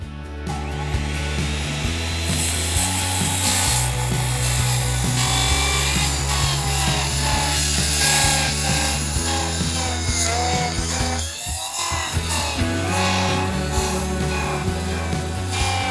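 A demolition saw blade from Milwaukee, Diablo or Spyder chews steadily through wood, a loud continuous power-tool whine with grinding texture, briefly dipping near the end before resuming.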